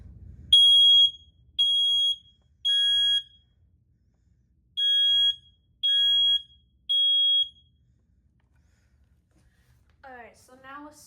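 A smoke alarm sounds six loud, shrill beeps in two groups of three during a fire and smoke alarm system test indoors, with pauses between groups and a voice speaking briefly at the end.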